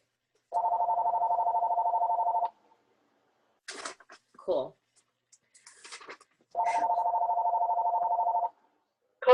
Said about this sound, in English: Who's calling? My husband, that's my phone.